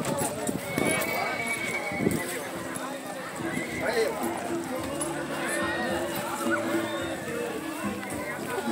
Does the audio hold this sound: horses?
yes